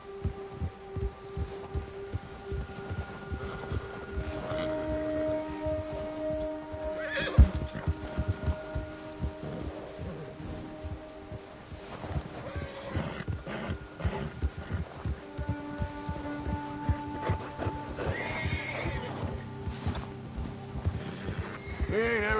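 A horse in the Red Dead video game clip-clops steadily along a trail and lets out whinnies, hoofbeats running throughout under a low hum and distant voices.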